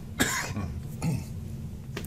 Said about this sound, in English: Sorry, just a quick cough there.